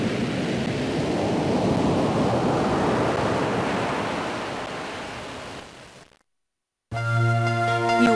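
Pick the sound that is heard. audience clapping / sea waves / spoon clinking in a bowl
sea waves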